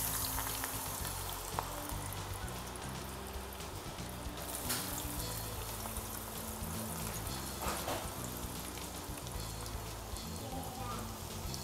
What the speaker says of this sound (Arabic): ولما بدأ يحمى الزيت نحط عليه البطاطس